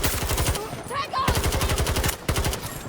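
Rapid automatic bursts from a GEW-46 (G36) assault rifle in Battlefield 2042, loud, closely spaced shots in several strings with brief pauses, someone talking over the gunfire.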